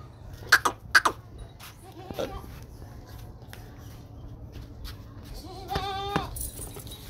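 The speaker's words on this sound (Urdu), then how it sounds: "یہ ماشاء اللہ بکری ہے" A goat on a farm gives one clear, wavering bleat near the end, preceded by a few sharp clicks and knocks over a low background hum.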